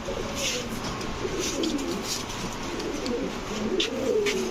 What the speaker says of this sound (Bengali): দেখেন খালি কবুতর দেখেন